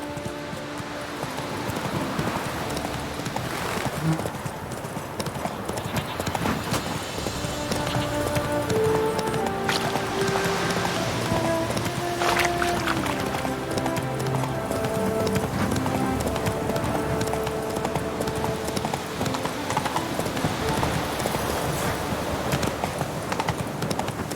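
Horse Roach's hooves clip-clopping in The Witcher 3, a steady rhythmic trot throughout over ambient game music and environment sounds, fairly close and consistent in level.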